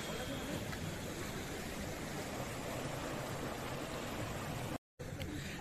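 Ghughar waterfall near Kuchinda pours in a steady, dense rush of white water that holds evenly throughout, broken only by a brief dropout near the end.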